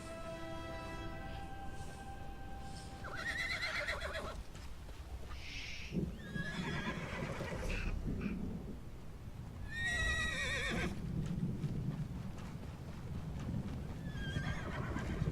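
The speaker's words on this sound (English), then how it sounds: "back on my horse" Horse neighing and whinnying in The Elder Scrolls Online, with repeated whinnies through the clip over a steady clip-clop of hooves and game background sound.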